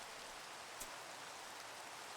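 Rain falling in the Minecraft video game, a steady, soft hiss of rainfall with no clear rhythm and no talking.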